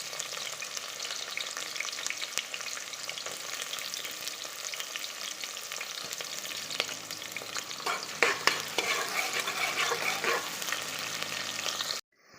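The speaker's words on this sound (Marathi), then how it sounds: "कुकरमध्ये राई टाकली, त्यानंतर जिरे टाकले, त्यानंतर कांदा आणि मिरच्या टाकल्या." Mustard seeds, cumin, onion and chillies fry in oil inside a pressure cooker with a loud, dense, continuous sizzle and some stirring scrapes, then the sound cuts off abruptly near the end.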